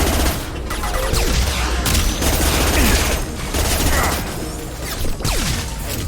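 SMG fire in Mass Effect 2, with loud, rapid bursts of automatic shots broken by brief pauses amid combat noise.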